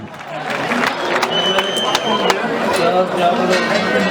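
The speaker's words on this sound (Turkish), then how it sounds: "Nerede alkışlar?" An outdoor crowd at a traditional bull wrestling event claps and cheers in a busy murmur, with scattered sharp claps and a distant loudspeaker voice running underneath.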